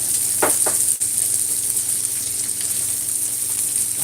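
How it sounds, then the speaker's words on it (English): Onions going into a hot pan with thyme and Scotch bonnet pepper, a loud, steady sizzle and crackle of frying close by, with a brief clatter early on. "And I'm putting in my onions"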